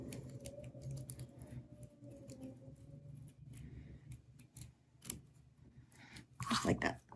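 Scissors snip through folded black paper to round off a corner, a series of faint close clicks and cuts beneath a person's quiet speech, ending in a louder rustle.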